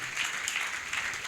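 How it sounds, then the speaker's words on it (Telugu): A church congregation claps together during a Telugu sermon by Pastor D. Ramesh, a brief, even wash of applause that holds at a steady level from start to finish. "చప్పట్లు కొట్టేసే నామాన్ని కనపరుద్దాం కొంచెం గట్టిగా"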